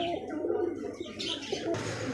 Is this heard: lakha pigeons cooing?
yes